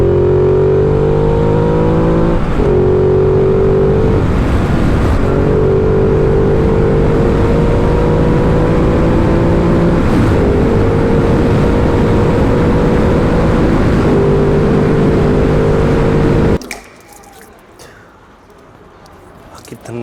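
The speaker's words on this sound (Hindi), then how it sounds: "इस गाड़ी का ना आवाज़ बदल जाता है जब ये 5000 RPM के ऊपर जाती है" A car engine drones at high revs above 5000 RPM, steady and loud, with small pitch steps as the throttle shifts. It cuts off near the end into quiet background.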